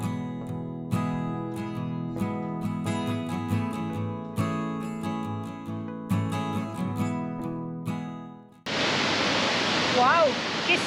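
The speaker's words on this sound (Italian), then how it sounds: "che salto che fa questa cascata!" A waterfall on the rocky Galician coast, set in alpine-like terrain by the sea, bursts in as a loud, steady broadband roar of falling water for the final two seconds, after a stretch of music.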